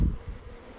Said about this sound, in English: And then we have this box, right? It's full of bees.